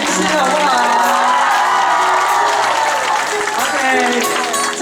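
A concert crowd at a hospital charity music event screams and cheers for a Taiwanese singer, loud sustained shrieks and whoops over clapping, with high excited voices rising and falling.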